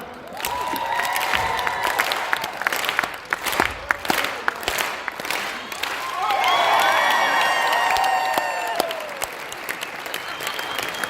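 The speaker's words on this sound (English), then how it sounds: "All right, start clapping." A large crowd claps and cheers at a summit event with Magic Johnson, sustained applause for about eleven seconds with sharp individual claps, shouts and whoops swelling in the second half.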